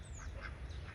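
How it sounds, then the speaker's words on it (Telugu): A white duck gives a few soft quacks in quick succession, faint against a low outdoor rumble. "ఈ తెల్లబాతు చూడండి ఎంత బాగుందో"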